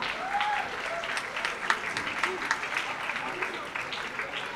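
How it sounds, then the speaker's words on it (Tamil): An audience claps for an editor being welcomed on stage at a Tamil film's first single launch event, a moderately loud, sustained patter of many hands with a host's voice faintly over it. "கைத்தட்டுங்க கைஸ்"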